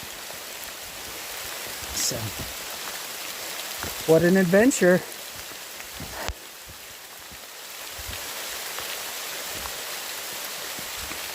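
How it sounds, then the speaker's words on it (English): Steady pattering of ice pellets on surfaces during a mountain hailstorm, with someone talking briefly near the middle over the constant hiss of falling hail. "Through a hailstorm in the mountains."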